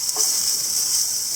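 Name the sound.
onion sautéing in a frying pan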